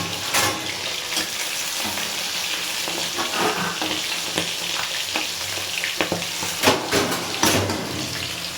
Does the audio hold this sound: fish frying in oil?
yes